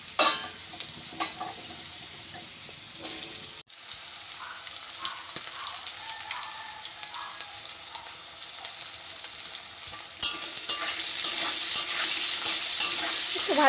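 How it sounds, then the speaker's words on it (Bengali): Cut potatoes crackle in hot oil in a home kitchen as they are fried for a chochchori, with stirring scrapes over a steady sizzle that swells louder near the end. "তেলটা হয়ে গেছে, এবার আলুটা ছেড়ে দেবো"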